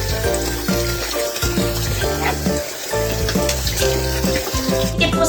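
Running tap water while malunggay leaves are washed for chicken tinola, a steady loud rushing stream with shifting splashes as the leaves move under the flow.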